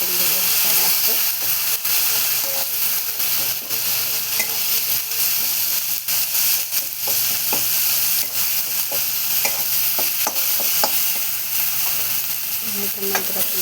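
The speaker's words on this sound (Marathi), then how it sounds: "हे बघा अजून थोडासा टाकून घेतला मसाला म्हणजे थोडासा परतून घेऊया छान असतं." Spice masala sautéing in a pan, a dense, continuous loud sizzle and hiss with frequent light scraping and stirring clicks throughout, close up.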